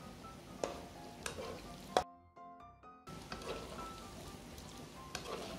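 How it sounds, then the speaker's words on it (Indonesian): Cashew nuts fry in oil in a pan with a soft steady sizzle and a few sharp stirring clinks, broken by a brief quieter gap with tonal ringing before the sizzling resumes, faint and close with no talk. "Sekarang kita goreng kacang medenya."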